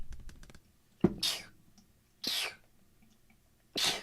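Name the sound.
sneeze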